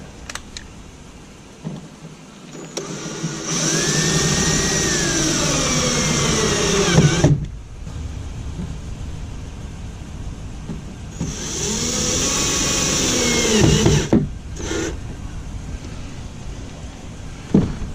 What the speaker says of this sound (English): as I went around and drilled this back in, the goop expressed out the sides